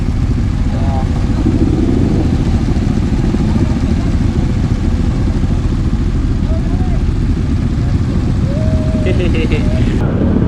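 Engines drone and rumble continuously as traffic with many motorcycles passes close by on a road in Mindoro, Philippines, with motorcycle revs and a few faint horn toots rising over the dense road noise.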